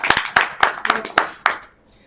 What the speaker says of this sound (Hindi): तो आदरणीय गार्गी जी के लिए जोरदार तालियां।